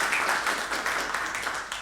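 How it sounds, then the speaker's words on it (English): Audience applause at an AI conference welcoming a speaker onto the stage: a dense, steady wash of clapping filling the whole moment, moderately loud. "A big applause for her."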